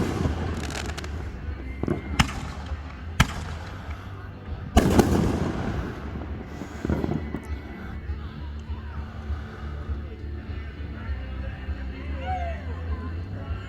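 A fire department's outdoor fireworks display in Boxholm, Iowa, with several sharp, booming bursts and crackling in the first seconds fading into rumbling echoes and scattered pops, while people talk and murmur in the background.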